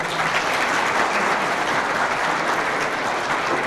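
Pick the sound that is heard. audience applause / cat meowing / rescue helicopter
audience applause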